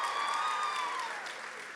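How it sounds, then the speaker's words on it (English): Audience applause at an evening event with the casts of Chicago Fire and Chicago P.D., a steady wash of clapping that starts full and eases slightly, with no talk over it. "Let's give them a big round of applause"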